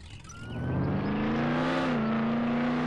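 A car in the Roblox game Jailbreak drives steadily, its engine droning at a constant pitch that swells and then holds loud and close, with no talk over it.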